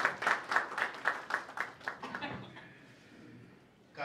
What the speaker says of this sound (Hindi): मनोज अग्रवाल जी के जोरदार तालियां प्लीज